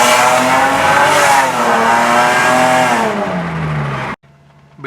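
2001-2005 Lexus IS300 with catless headers and downpipe revving hard, a loud raspy engine note climbing and falling through the revs, then dropping away abruptly to near silence with a faint idle.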